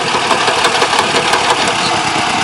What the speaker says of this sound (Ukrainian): Робить хорошо трактор.